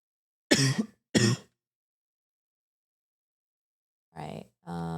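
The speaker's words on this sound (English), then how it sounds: "I'm coughing so much." A person coughs and clears their throat twice in quick succession at close range, then after a pause of silence two more short throaty bursts follow.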